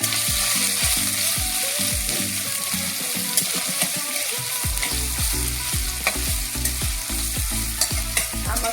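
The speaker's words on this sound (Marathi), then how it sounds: "आता याच्यामध्ये हे आलं लसूण आणि खोबऱ्याची पेस्ट आहे ना ती टाकून घेऊ." Ginger, garlic and coconut paste fries in hot oil for a Maharashtrian val bean curry, sizzling loudly and steadily with repeated scraping stirs of a spoon against the pan.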